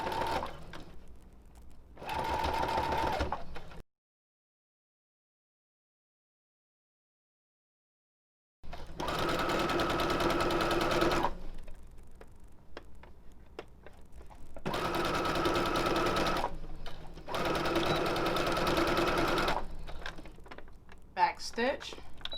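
A sewing machine back stitches a skirt seam at a 5/8 inch allowance, running in several sustained bursts of steady mechanical whirring, with a long silent pause early on and short stops between runs.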